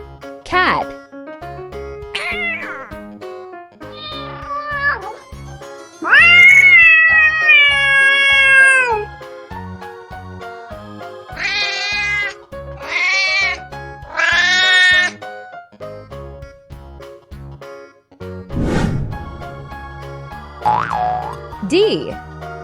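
A series of domestic cat meows, some long and wavering, others short, repeats over a bouncy rhythmic music track with springy boing effects, ending in a lower drawn-out yowl.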